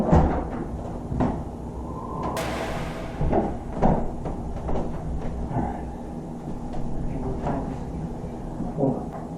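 A door in a house swings shut with a quick thud, caught amid a busy, noisy room full of low rumble, scattered knocks and faint voices.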